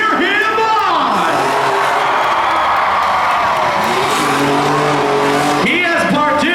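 A pro modified pulling truck roars at a county fair truck pull, its engine loud and close with revving pitch sweeps and a crowd cheering through the clip.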